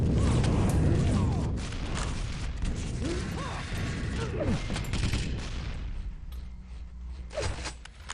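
Shotgun blasts and clanking weapon mechanics from the arena shooter Quake 3 Arena, loud and dense over a steady game din, with a voice talking over the action.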